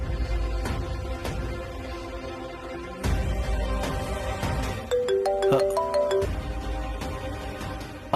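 A phone ringtone plays a short, bright melody partway through, fairly quiet against clicks and faint background noise.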